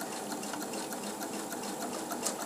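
A sewing machine runs a straight stitch at slow speed, its needle tapping in an even close rhythm that continues steadily without pause.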